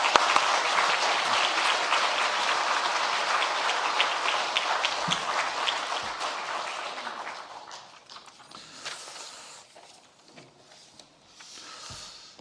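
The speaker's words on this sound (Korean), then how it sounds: "우리 목사님 나오실 때 박수로 환영하겠습니다" A church congregation applauds at a revival service as the pastor comes forward, a dense burst of clapping that fills the room and then thins into scattered claps and faint shuffling.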